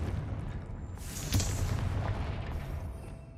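A Confringo fire spell blast in the Hogwarts Legacy video game, a single deep booming burst about a second in that rumbles and fades over a couple of seconds against constant low background noise.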